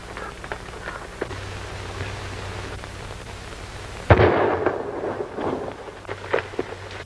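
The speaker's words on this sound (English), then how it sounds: "That shot came from the other side of that arroyo." A single sharp gunshot cracks out loud and close, followed by rumbling echo and movement noise on the soundtrack of an old western film set in frontier country near an arroyo.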